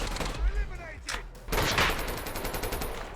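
Gunfire in the mobile shooter Call of Duty Mobile: sharp shots and rapid bursts ring out, with a loud volley in the middle, mixed with game effects and someone speaking over them.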